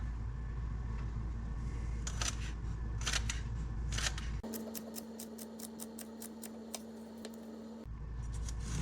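A knife dices celery stalks on a cutting board for homemade chili: a few loud separate chops, then a quick, evenly spaced run of crisp cuts over a steady hum, close by.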